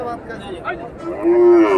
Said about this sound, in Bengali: বকনা গরু।